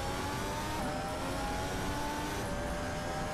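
Formula One 2014 car engine in Assetto Corsa, a continuous loud high-pitched drone with shifting pitch as the engine revs and changes gear, filling the whole stretch without pause.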